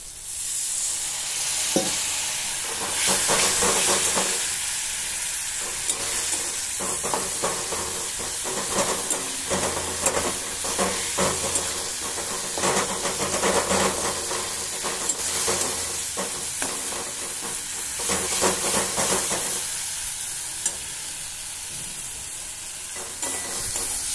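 Small splash of water into a hot pan of Moglai paratha filling, a loud continuous hiss and sizzle of steam with stirring scrapes rising and falling throughout.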